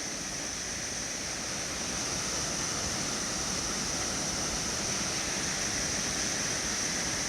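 Swollen, raging Sailors Creek at Daylesford rushes past in a steady, loud, unbroken roar of flowing water, holding even from start to end with no voices.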